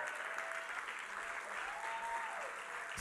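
An audience at a New Year's Eve church service breaks into sustained, steady applause that fills the room for the whole stretch, with a few faint voices mixed in.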